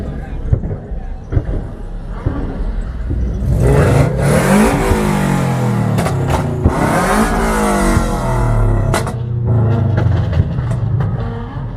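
Import car engines rev repeatedly at a car meet in Woodbridge, Ontario, loud, rising and falling sweeps from about four seconds on, with voices talking underneath throughout.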